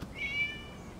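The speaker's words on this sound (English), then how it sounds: "It was just a cat." A single cat meow in a video game, a brief high tonal cry that rises and fades quickly, moderately loud over a quiet background, with no one talking.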